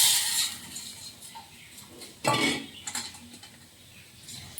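A spoon stirs hot oil into rice flour in a kitchen bowl, giving soft scraping and light clinks of metal against the dish, faint and close with one louder knock midway.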